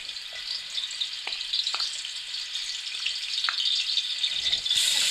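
Ginger and garlic paste fries in hot ghee oil in a cooking pot, a steady bright sizzle with a few light stirring clicks, growing slightly louder toward the end, no talking.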